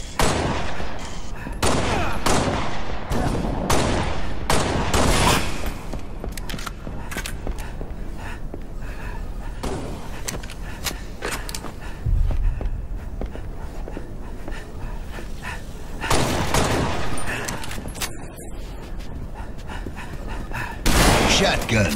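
Shotgun fire in the video game Halo Reach comes as sharp, loud blasts in scattered bursts, mixed with other in-game combat noise and an announcer-style voice.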